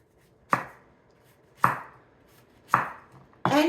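A knife cuts through a red onion into wedges on a cutting board, four sharp chops spaced about a second apart, each a close thud with a short fading ring, no talking.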